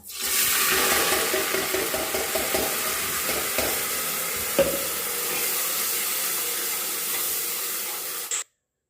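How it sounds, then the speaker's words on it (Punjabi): Masala spices dropped into hot oil with cumin, giving a loud, steady hiss and crackle of frying that runs unbroken for about eight seconds and then cuts off abruptly. "ਤੇਲ ਤਾਂ ਗਰਮ ਹੋ ਗਿਆ ਏ ਤੇ ਵਿੱਚ ਪਾਦਾ ਹੁਣ ਮਸਾਲਾ"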